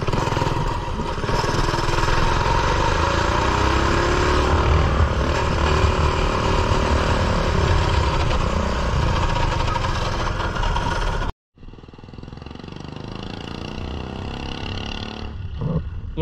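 Mini bike engine with a new exhaust roars loudly with a rough, raspy note, cuts out briefly, then resumes idling at a lower, steadier level.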